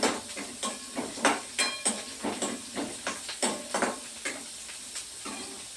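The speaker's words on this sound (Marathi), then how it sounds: "कांदे तेलामध्ये होऊ देत आहे" Onions fry in hot oil for okra curry, with a rhythmic series of scraping stirs over a steady sizzle, close up and with no talk.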